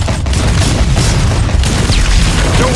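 Loud, continuous heavy gunfire and booming blasts from a Tommy gun firing explosive slugs in the Batman Telltale Series game, a dense sustained barrage with no pause.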